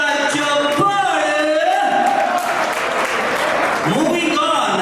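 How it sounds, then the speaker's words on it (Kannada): Audience applause at the ACFA Karnataka State Gem Award ceremony, a steady wash of clapping that runs through the whole moment beneath an amplified voice and tonal music. "ಬರೀ ಇಬ್ರು ಜೋರದ ಚಪ್ಪಾಳೆ"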